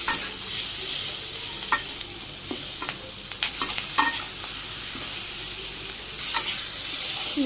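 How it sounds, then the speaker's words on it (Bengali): Vegetables with dried chili powder and a green chili are sautéed in a pan, a continuous close sizzle broken by repeated scraping stirs and clinks of the spatula, with no talking. "আবার আমি কিছু সময় ঘুরে কষে নিই"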